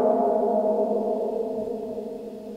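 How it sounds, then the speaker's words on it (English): Vintage spring reverb unit built into a speaker, giving a sustained, dense wash of ringing tones that stays steady and fairly loud, then slowly thins over a few seconds, with no voices. "that's the mysterious speaker spring reverb thingamajiggy"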